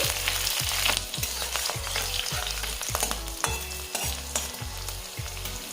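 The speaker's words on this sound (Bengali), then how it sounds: "এবারে দিচ্ছি থেতো করা রসুন আর দিচ্ছি চেরা কাঁচা লঙ্কা এবার একটু নেড়ে চেড়ে নিচ্ছি" Crushed garlic and slit green chilies stir-fry in hot oil, with a steady sizzle and a spatula scraping and tossing in regular strokes about once a second, close and fairly loud, with no voices.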